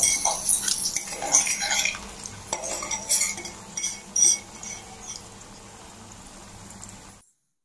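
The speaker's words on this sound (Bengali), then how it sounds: "চামচ তেলের মধ্যে একটি আলু ভেজে নিচ্ছি।" A spoon stirs and scrapes potato frying in oil with turmeric and salt in a pan, with repeated metallic clinks and scratches over a faint, steady sizzle. No voices are heard.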